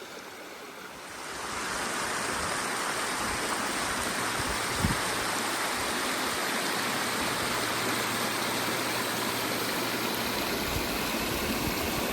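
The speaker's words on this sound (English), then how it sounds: "it's not one waterfall, it's like steps" Stepped waterfall and stream in a clough pour as a steady, broadband rush of water that swells in after the first second and holds loud and constant, with one brief low knock midway and no talking.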